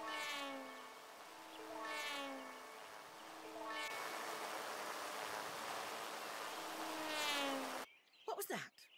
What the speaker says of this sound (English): Why does it sound like a mosquito?